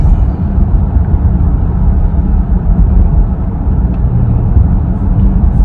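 A Dodge Durango RT's engine pulls hard in third gear, heard from inside the cabin as a loud, steady low rumble and drone that holds throughout.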